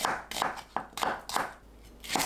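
Knife slicing onion into 0.5 cm slices on a cutting board, with a series of about six crisp, evenly spaced chops close up and no talk.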